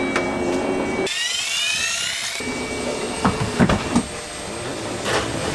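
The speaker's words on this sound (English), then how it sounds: "To raise the swim platform on Moja, press on this button here." A motorised swim platform on a Beneteau Oceanis 48 yacht lifts with a steady electric whine that rises in pitch for about a second, then continues as a lower motor drone with a few clunks and knocks near the end.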